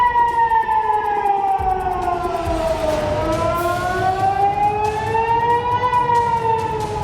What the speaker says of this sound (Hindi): इजराइल के करीब 80 शहरों में सायरन बजने लगे।